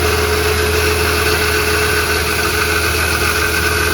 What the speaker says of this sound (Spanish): no sabemos por qué el auto está fallando